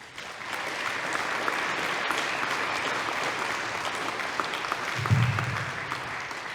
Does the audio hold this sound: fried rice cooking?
no